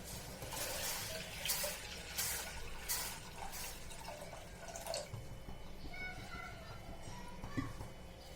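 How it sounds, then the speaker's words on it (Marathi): Water poured from a tap or jug into a pressure cooker set on the stove for dal, a steady splashing run that shifts in tone as the vessel fills, heard up close with no talking. "सगळ्यात आधी आपण कुकर ठेवलेला आहे त्यात टाकूया पाणी"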